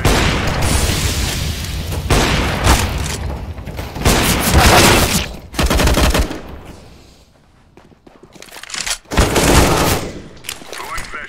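A flashbang is thrown and detonates in a tactical shooter game, heard as sharp booms amid dense, loud bursts of gunfire and mechanical clatter, with a short lull before the chaotic blasts resume.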